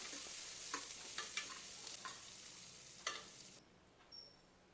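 Mustard seeds, onion and dry red chillies frying in a little oil for rasam and palya: faint crackling sizzle with a few spoon scrapes, quieting near the end.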